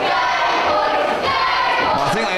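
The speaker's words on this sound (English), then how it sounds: "Look at this inappreciative crowd." A crowd at a professional wrestling match reacting in a steady, dense roar of cheers and shouts that fills the whole moment without a break.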